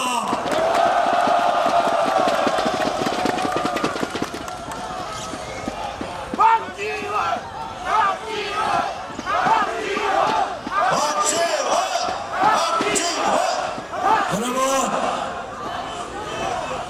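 A crowd at a political party rally calls for the president's resignation, clapping and cheering together in loud, surging bursts of chanting and applause, with a speaker's amplified voice heard early on.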